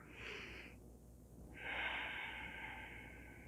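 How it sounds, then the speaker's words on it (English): Slow, deep breathing during a yoga relaxation, two long airy breaths close and soft, a shorter inhale followed by a longer exhale with nothing else heard. "Breathing deeply."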